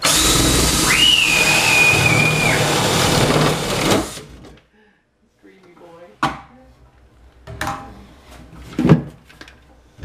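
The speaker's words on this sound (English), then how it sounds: "Davey gets to use the Sawzall" A Sawzall reciprocating saw cuts loudly and continuously for about four seconds with a thin whistling tone on top, then stops, leaving quieter scattered knocks and handling sounds.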